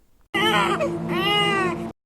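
A newborn baby cries in one sustained, loud wail lasting about a second and a half, close to the microphone, with a short pause in the middle and no other voices.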